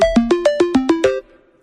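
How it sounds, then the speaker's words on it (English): Pac-Man ringtone from an iPhone's built-in list: eight quick, evenly spaced electronic beeps with stepping pitches, clear and close, then a brief fading tail, with no talking. "Pac-Man. The 73rd ringtone listed for your selections on your iPhone."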